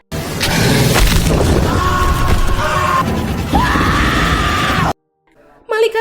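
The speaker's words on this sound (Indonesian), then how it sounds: "Dia langsung teriak-teriak minta tolong." A woman screams for help in the crocodile-swamp film The Bayou, loud strained cries over a booming, chaotic soundtrack that cut off into near silence before noise briefly returns.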